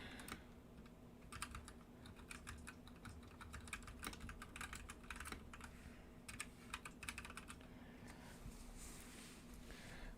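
Keys clatter on a computer keyboard in quick bursts of rapid typing, separated by short pauses, close to the microphone over a faint steady hum.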